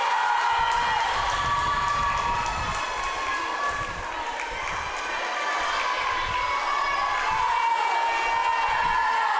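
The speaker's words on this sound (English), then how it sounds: "Teammates and competitors alike cheering her on." A crowd of teammates and competitors at a girls' swim meet in an echoing indoor pool cheers and shouts steadily, a dense wash of voices that dips briefly midway and then swells again.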